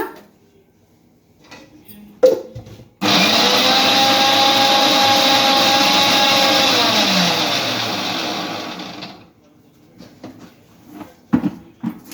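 A kitchen mixer grinder grinds a spicy orange-pulp chutney with small onions, running loud and steady for about six seconds before winding down, with brief knocks before and after.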